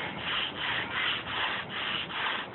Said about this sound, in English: I just got done sanding with 80 grit sandpaper